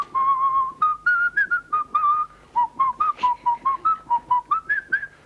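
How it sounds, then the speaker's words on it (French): A man whistles a little tune in the shower, a close, clear melody of held and short notes in quick phrases, with a brief pause partway through. "Donc je siffle un petit air sous ma douche."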